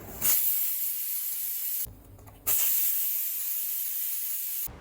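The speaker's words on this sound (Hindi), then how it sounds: "स्लो आंच पर 2 सीटी आने तक वेट कर लेंगे हम" Loud, continuous steam hiss with a brief drop in the middle before resuming, a pressure cooker whistling and venting while cooking chickpea pulao on low heat; no talking.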